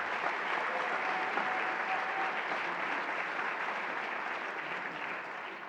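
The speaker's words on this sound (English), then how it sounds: "Let's give our honorees another clap of appreciation." Applause from a crowd at a 50th anniversary celebration honoring community figures, a dense steady wash of many hands clapping that holds loud throughout and fades slightly at the end.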